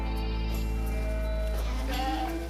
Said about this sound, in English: To produce good meat, these goats need plenty of protein too.